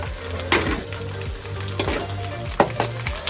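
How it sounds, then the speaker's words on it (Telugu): Gongura (sorrel leaf) chutney stirred into hot oil in a pan, giving a steady close sizzle with a low hum beneath and a few sharp spoon scrapes against the pan, no talking. "వేసిన తర్వాత బాగా నూనెలో ఇలా కలుపుకోవాలి"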